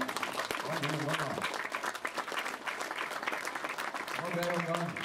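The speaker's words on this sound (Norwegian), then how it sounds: "vi gir igjen en ekstra klapp for den fantastiske hurtigskyttingen vi gjør" An audience at a youth shooting competition gives sustained applause, loud and continuous. A voice speaks at the start and again near the end.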